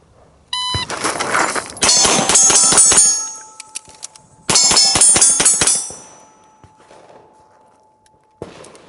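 Pistol shots in a Bill Drill: two tight, rapid strings of sharp, loud reports with metallic ringing, separated by a short pause, then a single faint clack near the end.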